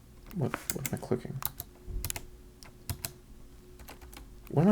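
Computer keyboard keys clicking during a Dungeon Crawl Stone Soup game, quick irregular bursts of close taps mixed with someone talking.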